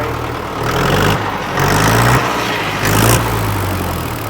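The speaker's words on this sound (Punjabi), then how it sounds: "ਟਰੈਕਟਰ ਸਟਾਰਟ ਕਰਕੇ ਦਿਖਾ ਦਈਏ" A diesel tractor engine starts and runs loud and close at a used-tractor sale in Kaidupur, idling with a low throbbing rumble and a few swells of revving.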